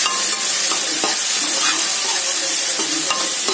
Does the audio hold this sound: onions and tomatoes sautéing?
yes